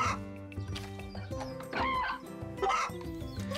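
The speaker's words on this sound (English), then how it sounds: "I kind of like having my chickens free roam." Free-roaming farm chickens in the video game Story of Seasons: A Wonderful Life, clucking repeatedly in short bursts over steady game background music, close and clear with no talking.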